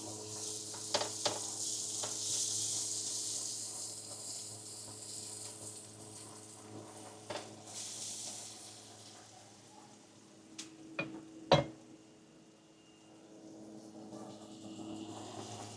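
Onion sizzling as it drops into a hot pan for kung pao chicken pasta, a soft continuous hiss with a few sharp clinks and stirring knocks near the end.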